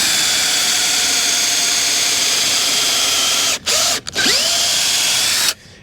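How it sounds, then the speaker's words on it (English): A drill with an auger-tipped paddle bit bores a 1/4-inch hole in timber, a steady loud whine running for several seconds with two brief dips in speed before stopping abruptly. "the first step is to drill a 1/4-inch hole"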